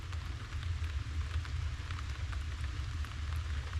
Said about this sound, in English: it starts raining on me